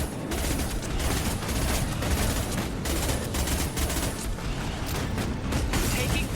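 Enemy gunfire in Mass Effect 2 forms a dense, unbroken rattle of rapid shots and mechanical clatter, loud and close throughout, with a voice talking faintly underneath.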